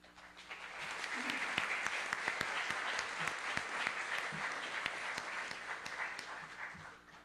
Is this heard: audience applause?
yes